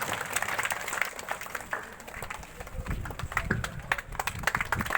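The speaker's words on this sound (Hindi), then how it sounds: "जोरदार तालियों से स्वागत करेंगे माननीय विधायक महोदय का।" Dense, continuous applause from a crowd welcoming an MLA at a public felicitation event, steady and close throughout with sharp individual claps.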